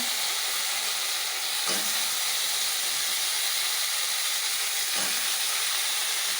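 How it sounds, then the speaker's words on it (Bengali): Vegetables hit a very hot wok and sizzle in a loud, continuous hiss that stays steady throughout, with a couple of brief thuds marking the only breaks. "এখন আমি সবজিটা বসিয়ে দিচ্ছি এই দেখো কড়াইটা আমার গরম হয়ে গেছে"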